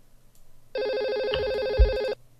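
A telephone ringtone sounds once for about a second and a half, a bright, steady electronic warble that starts and stops abruptly against a quiet background.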